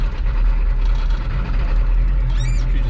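A 1987 Ford F350 truck with a 6.9 IDI diesel engine pulls away in first gear, making a steady, close, low rumbling drone that holds throughout, with a faint brief chirp near the end and no talking.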